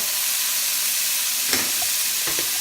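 Chopped onion and garlic fry in a pan, a loud, steady sizzle that fills the whole stretch, with a couple of brief spatula scrapes as the mixture is stirred near the end.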